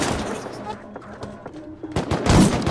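Rapid bursts of turret gunfire in the Rust video game during a raid on a 1,000-player server, loud and close, with shorter pops earlier and a heavy volley near the end under players' voices.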